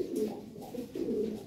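Expensive thick-beaked pigeons, kept for sale, give steady low cooing in two drawn-out rolling phrases, close and clear against a quiet background.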